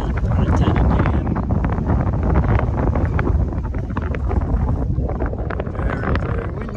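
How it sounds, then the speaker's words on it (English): Strong, steady wind roars and buffets the microphone atop a fire tower overlooking Fontana Lake and Fontana Dam in the Great Smoky Mountains, a loud continuous rumble with gusty surges and no voices. "Very, very windy."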